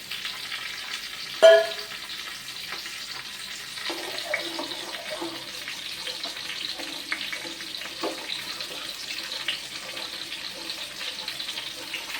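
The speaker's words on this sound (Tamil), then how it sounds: "இப்போ நம்ம கத்திரிக்காயை போட்டுக்கலாம். இந்த கத்திரிக்காய் கொஞ்சம் வதங்கணும்." Brinjal sautés in a pan for a buttermilk curry, a low, steady sizzle broken by occasional stirring scrapes and one sharp clank early on, heard close and fairly faint with no speech.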